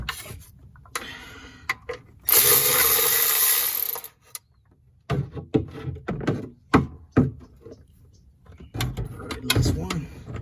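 A power tool whirs briefly and loudly while removing transmission pan bolts on a Ford Expedition, followed by scattered clicks and rubbing of tools and parts, with someone talking intermittently.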